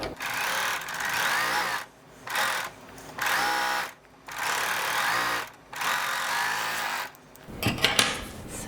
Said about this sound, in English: I am just stitching in white for my overlock